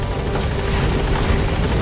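A helicopter in the video game Metal Gear Solid V: The Phantom Pain hovers close by, its rotor producing a loud, steady, throbbing whir with no talking.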